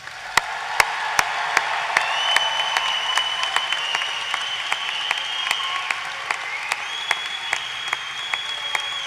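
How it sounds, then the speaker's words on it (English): A university graduation commencement audience applauds the class of 2026, a sustained, dense wash of clapping from a large crowd with sharp individual claps standing out near the microphone. "How about a round of applause for the class of 2026?"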